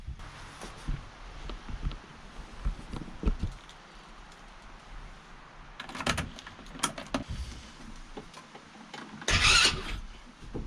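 A Kandi go-kart style ATV is cranked and brought toward life after repairs, with bursts of starter and engine noise, clanks and rattles from close by, rising and falling across the clip and ending in a loud burst.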